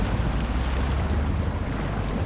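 A truck splashes and churns through water in the Snowrunner video game, a steady loud rushing wash of water and engine rumble with no talking.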